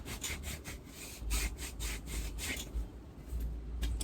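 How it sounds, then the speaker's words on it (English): A foot scrubber rasps back and forth over the skin of a foot during an at-home pedicure, giving quick rhythmic scratchy strokes, close and fairly quiet, with no talking. "I go in with my scrubber."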